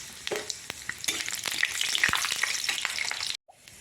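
Whole spices frying in oil: panch phoron, cumin, dried chillies and bay leaves. A close, crackling sizzle carries spattering pops and spoon scrapes, then cuts off abruptly near the end.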